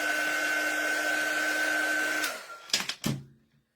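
A hair dryer blows steadily and close on a glued paper cardinal ornament for about two seconds, then switches off, followed by a few clicks and handling knocks before quiet.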